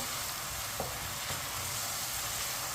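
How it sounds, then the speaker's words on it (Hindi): Chopped onions frying and browning in a pan over medium heat, a soft, even sizzle with a couple of faint stirring touches, no voices. "प्याज को हल्का सा ब्राउन कर लेंगे।"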